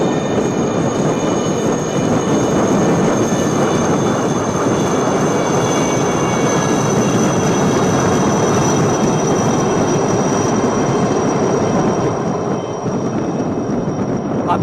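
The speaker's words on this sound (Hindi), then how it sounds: "Coming up next are 6 Chetak helicopters from the 321 flight in a diamond formation." Six Chetak helicopters fly overhead in diamond formation during a naval fleet review at Visakhapatnam, a loud, continuous engine and rotor roar that holds steady and dips slightly near the end.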